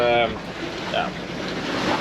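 Strong wind of about 22 knots gusting to 25 roars across the microphone on a sailboat at sea over a wash of sea noise, loud and continuous, with a faint tonal whistle at the start.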